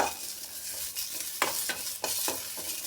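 Green chillies frying in a pan in which peanuts were just roasted, for a North Karnataka-style sambar: steady soft sizzle with a few scraping stirs of a spatula, close up and no talking.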